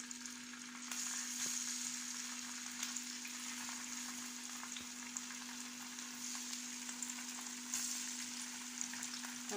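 Chicken liver and gizzards frying in a hot pan, a continuous close sizzle with scattered pops and crackles over a steady low hum, no talk.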